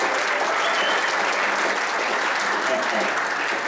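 A church congregation applauds loudly and steadily, a dense wash of clapping from many hands that fills the room without pause.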